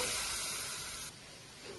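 Water poured into a hot kadai on a lit stove hisses and sizzles in a steady steamy rush that drops off after about a second, quiet and close.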